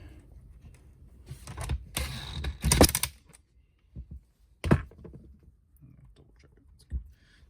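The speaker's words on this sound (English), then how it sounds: "And then I'm going to tighten the nut here." A nut on the bar of a Craftsman chainsaw is tightened by hand, giving a few close, short bursts of metallic scraping and clicking with quiet pauses between them.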